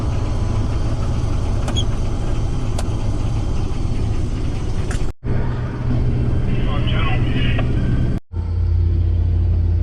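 A combine harvester unloads its wheat into a truck with a loud, continuous mechanical rumble and rattle that drops out twice for a moment.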